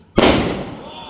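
A single sharp firecracker bang bursts suddenly during Diwali celebrations, followed by a fading crackle and hiss.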